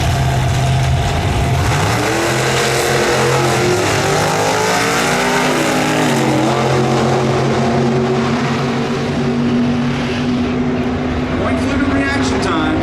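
A 1966 Chevy II drag racing at the NHRA Sonoma Nationals: a loud, continuous engine roar rising and shifting in pitch as the car accelerates down the strip, with a commentator talking over it.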